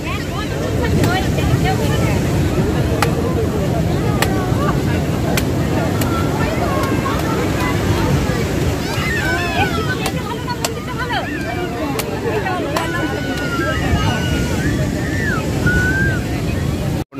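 Sea waves at Puri beach wash in as a continuous loud surf roar mixed with wind buffeting the microphone, with distant chatter and faint whistles from the crowded shore.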